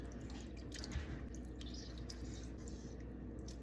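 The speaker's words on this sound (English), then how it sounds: "Now I'm just going to squeeze my lemons." Lemons and limes squeezed by hand over raw oxtail in a home kitchen, juice dripping steadily in soft, close wet patters over a constant low background hum.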